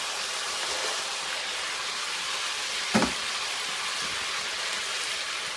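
Kimchi sizzles steadily in a pan of frying marinaded pork, a constant hissing crackle with a single clack from stirring partway through and no talking.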